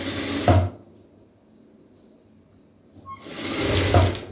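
A sewing machine stitches blouse fabric in two loud, steady whirring runs, one at the start and one near the end, with a quiet pause between them.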